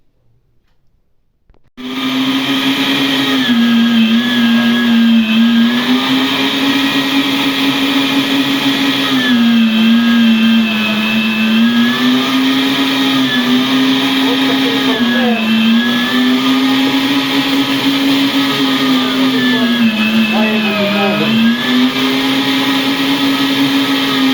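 An electric meat grinder mincing garlic starts abruptly and then runs loud and close with a steady, whining motor hum that wavers slightly in pitch as the cloves feed through.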